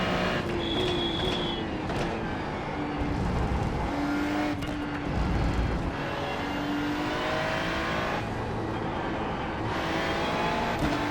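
GT3 race car engine lapping Spa in a racing video game, a loud sustained engine note rising and falling through gear changes with repeated revving, downshifts and occasional tire squeal, heard from close to the car.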